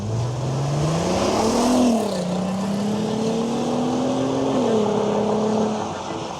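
A VW Scirocco with an all-wheel-drive swap and VR6 engine races hard, its loud engine note climbing through the gears in two strong pulls with a brief dip between, steady and close throughout without speech.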